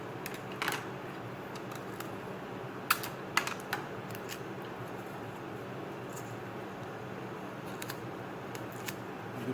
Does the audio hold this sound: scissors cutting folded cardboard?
yes